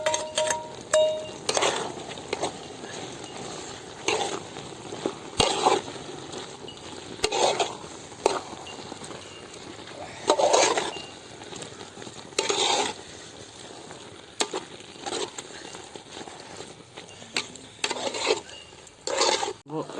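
Fried mustard seeds are stirred into a tapioca and pork biriyani, heard as repeated scraping and clinking of a spoon against the pot in uneven strokes with a faint sizzle and a little talk.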